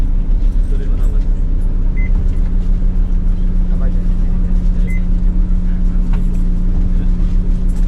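Low, steady engine rumble and road noise inside a bus travelling in Japan, a constant drone with a strong low hum, faint rattles and brief higher tones over it.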